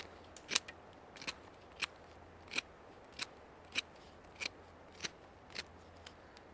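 A factory-edge Schrade SCHF24 fixed blade knife cuts through a knot in wood, making about eleven crisp, evenly spaced snapping strokes, quiet and close.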